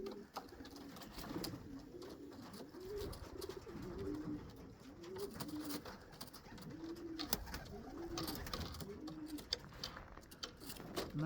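Racing pigeons cooing outside a loft in Lithuania, soft low rolling coos repeating in a steady rhythm from several birds nearby, fairly quiet against a faint outdoor background.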